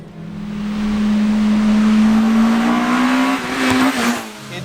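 A Toyota MR-S sports car with a swapped 2ZZ engine revs hard and close toward about 8,400 RPM, its pitch climbing and holding high before easing off with a rough burble.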